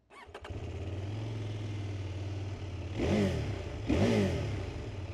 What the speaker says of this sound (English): here's how that bad boy sounds